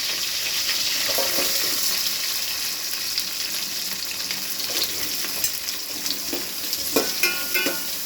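Onions fry in hot oil for Chettinad crab curry, giving a steady, close sizzle with occasional scraping stirs toward the end.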